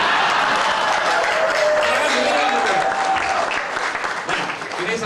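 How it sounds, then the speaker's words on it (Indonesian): Enthusiastic audience applause at an indoor company gathering for Aqua depot staff, dense continuous clapping from a crowd filling the room, loud and sustained, fading slightly toward the end. "tepuk tangan buat Mas"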